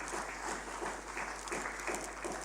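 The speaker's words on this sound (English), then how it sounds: "could we have a round of applause for North East and for John?" Audience applause at a lecture honouring a retiring speaker, a steady wash of clapping at moderate level throughout, with no talk over it.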